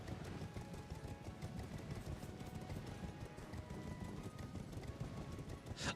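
Large spectral boss horses in a video game clop along in a steady, busy rhythm of hoofbeats over a dense low rumble, moderately faint, with brief voices faintly underneath.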